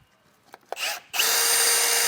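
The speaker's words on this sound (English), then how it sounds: "What you can do is just take your drill." A power drill spins up briefly, pauses, then whines loudly and steadily as it enlarges a bolt hole in the metal frame of a 2017 GMC Sierra 1500, close by.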